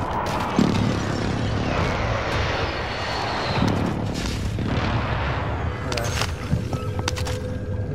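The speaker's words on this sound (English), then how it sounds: "Be advised, friendly precision airstrike inbound." Precision airstrike in the shooter Call of Duty: Modern Warfare: a loud, continuous roar of jet engines and rumbling blasts, with sharp crackling impacts breaking through toward the end.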